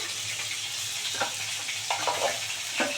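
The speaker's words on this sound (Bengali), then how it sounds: "লাল করে ভাজা হয়ে গেছে মাছগুলো আর এরকম লাল করে কড়া করে ভেজে নিতে হবে" Lata fish frying in hot oil, a dense bright sizzle that holds steady and close throughout, with a few soft bubbling pops rising above it.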